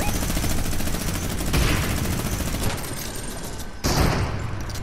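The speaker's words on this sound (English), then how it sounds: "I'm gonna go in guns a-blazing with this minigun." A minigun fires in the video game Fortnite, a dense, continuous stream of rapid shots loud and close throughout, with voices over it.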